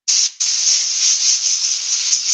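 Sandpaper at 240 grit rubs over a wooden bowl, a loud, close, steady hiss that breaks off once briefly near the start and then continues evenly.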